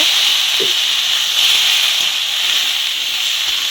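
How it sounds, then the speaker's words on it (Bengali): Vegetables with spices fry in a little oil, giving a steady, loud hiss that holds evenly throughout, with a few soft knocks underneath. "এখন ভালো করে আমি মশলা সবজিটা ভেজে নেব"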